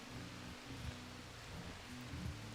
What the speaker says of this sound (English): it's raining. It is.